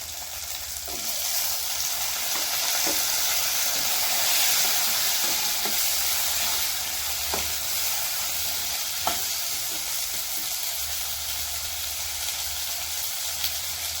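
Small onions and tomatoes sauté in a pan for a Tamil wedding-style sambar, sizzling steadily and close, with occasional soft scrapes and taps of a spoon stirring.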